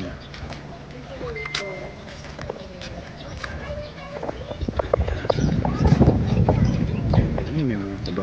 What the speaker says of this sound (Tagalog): Ay, may mga kabayo.